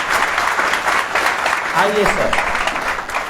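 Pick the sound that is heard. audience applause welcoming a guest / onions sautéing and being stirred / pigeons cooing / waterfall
audience applause welcoming a guest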